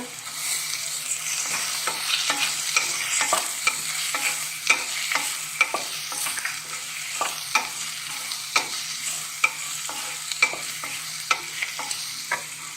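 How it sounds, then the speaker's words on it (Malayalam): Prawn roast masala with curry leaves being sautéed in a pan, a steady sizzle under regular scraping strokes of a spoon against the pan, close and continuous without voices. "അതും പച്ചച്ചവ പോകുന്ന വരെ ഒന്ന് വഴറ്റി കൊടുക്കണം കരുവേപ്പില ഇടുക"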